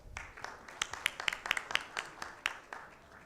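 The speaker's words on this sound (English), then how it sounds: "Can we please have a huge round of applause?" A conference audience at a gastroenterology meeting in Bhopal gives a sparse, faint scattering of individual claps, a dozen or so uneven hits spread over a few seconds rather than a full ovation.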